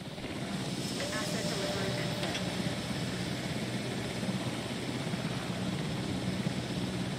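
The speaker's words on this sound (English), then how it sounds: "I still hear that helicopter." A helicopter in the video game Jurassic World Evolution gives a steady, unbroken rotor drone at moderate volume throughout.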